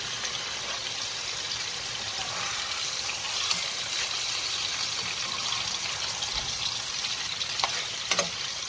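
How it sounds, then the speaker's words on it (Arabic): Chicken breasts sizzle and fry in a pan after being turned, a steady, close, continuous crackle with brief louder pops and no talking. "هنقلب بقى الفراخ."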